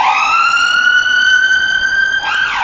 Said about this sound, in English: There's two ambulances heading along.